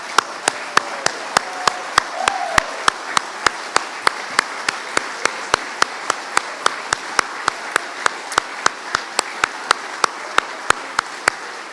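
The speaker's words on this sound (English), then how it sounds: "let's show them properly our appreciation and give them a huge round of applause" Sustained applause from a crowd for MPs and candidates at a political event, a steady wash of clapping punctuated by sharp, evenly spaced rhythmic claps.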